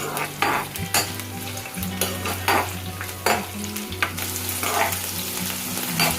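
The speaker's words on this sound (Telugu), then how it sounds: "పచ్చిమిర్చిని బాగా వేయించుకోవాలి" Green chillies frying in hot oil, a loud close sizzle with sharp scraping strokes of a spatula stirring at irregular intervals and a low steady hum beneath, with no talk.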